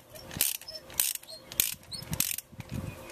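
Ratchet wrench turning counterclockwise to loosen a car spark plug, several close, crisp bursts of rapid clicking ratchet strokes with brief pauses between them.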